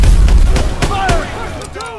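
Gunfire and a grenade blast in the WWII shooter Call of Duty WWII: a heavy low boom opens under battlefield rumble, followed by a few sharp cracks and some whistling, with shouted voices mixed in.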